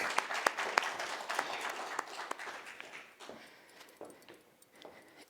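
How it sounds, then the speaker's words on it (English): A round of applause from an audience at a youth empowerment information session, scattered hand claps starting fairly strong and tapering off into lighter, sparser clapping toward the end. "Let's give them a round of applause"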